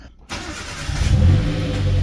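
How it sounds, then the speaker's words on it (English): A car engine cranks and catches after a crankshaft position sensor replacement on an older car, silence giving way to a sudden start that settles into a steady, fairly loud close idle. "Well, for now, let's see if the vehicle can start."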